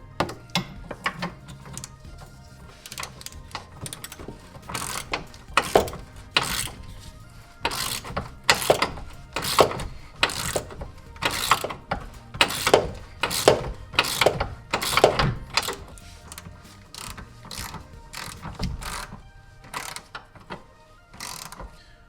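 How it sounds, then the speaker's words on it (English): A hand ratchet tightens the bolts joining the subframe to the rear differential carrier on a B5 S4, producing long runs of rapid metallic clicking strokes in steady rhythm with short pauses, close and loud. "now let's get our bolts tightened up"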